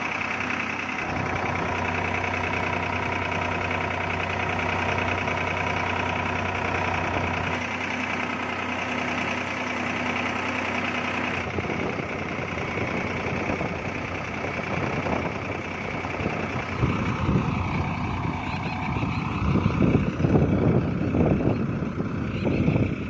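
A farm tractor engine runs steadily for the whole stretch, a close, continuous droning idle that shifts in tone partway through and grows rougher and busier toward the end, with no talking.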